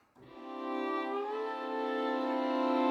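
Sampled violin from the Pathfinder Violin plugin, heavily time-stretched at 60 BPM, holds one long bowed note that swells in slowly and sustains smoothly without a break, clear and close with nobody speaking.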